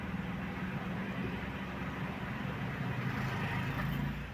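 A car engine runs steadily with its check engine light on, a faint, even low hum and rumble with no misfire or stumbling and no voices.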